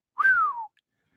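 A man on a ship's poop deck gives a single whistle that rises and then slides steadily downward, clear and close, lasting about half a second with no talk around it.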